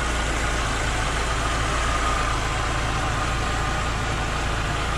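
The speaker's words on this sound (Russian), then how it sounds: "Двигатель работает ровно." The engine of a 2021 Lada Niva Travel idles steadily and evenly, a constant close hum with no voices.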